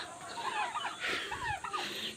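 Several chickens cluck and chatter close by over dropped feed in short, busy bursts, with no talking, on a rural farm in Cavite, Philippines.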